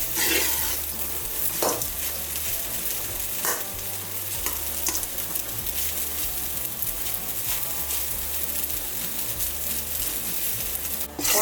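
Idiyappam is stirred and sautéed in a tempering in a pan: a continuous sizzle runs throughout with repeated scraping and clattering strokes of the spoon, close and fairly loud, with no talking.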